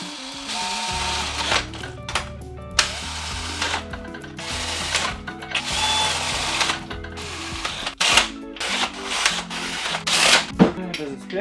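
A power drill, not an impact driver, drives bolts while a small-block Mopar engine is assembled in a barn, coming in short, loud whirring bursts with pauses, clicks and clanks in between, while people talk.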